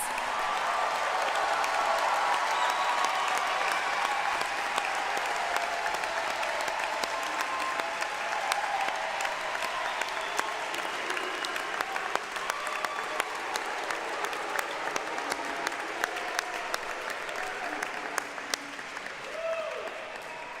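Audience at a music school commencement ceremony gives a long, steady round of applause for degree recipients, the dense clapping holding at an even level before easing slightly near the end.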